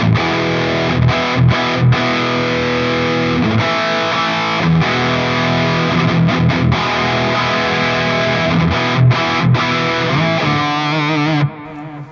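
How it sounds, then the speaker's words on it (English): A heavily distorted electric guitar plays thick, sustained chords and riffs, loud and continuous, ending with a brief quieter ringing tail. "I use now two distortion pedals. So basically this is the AT Plus."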